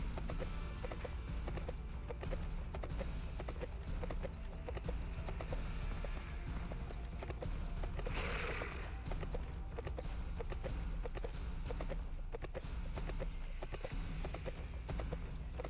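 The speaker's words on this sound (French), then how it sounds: "il est assez rapide ce cheval" Horse hooves galloping at a steady quick clip-clop in the video game Sacred 2, continuous and fairly loud over a dense background of game music and ambience.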